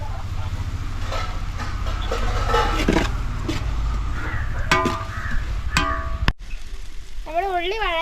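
Onions and curry leaves fry in hot oil for a big batch of homestyle chicken curry cooked outdoors, a continuous close sizzle with scraping. Crows caw repeatedly nearby, and a passing vehicle is heard in the background.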